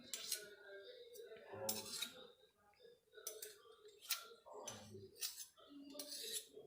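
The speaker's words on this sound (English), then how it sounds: "You guys can tell I was struggling with getting all the butter off this spoon." Metal spoon scraping and clinking against a bowl while working butter into a flour mixture for chocolate cookie dough, a series of irregular close, moderately quiet scrapes and taps with no talking.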